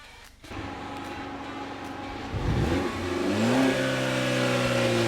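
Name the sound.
motor home engine running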